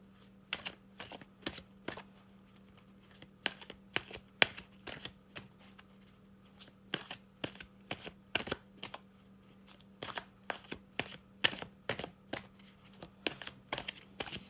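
Romance Angel oracle cards being shuffled in a steady run of crisp, sharp riffles and flicks, close and fairly quiet against a low background hum.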